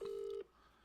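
A single steady telephone dialing tone sounds loud and close for under half a second, then cuts off to a quiet room background.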